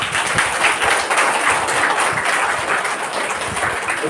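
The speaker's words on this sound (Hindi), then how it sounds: "थोड़ा ताली एक बार बीच में बजाओ" An audience in a Brahma Kumaris spiritual class gives steady, dense applause, loud and continuous, with many hands clapping at once and no talk over it.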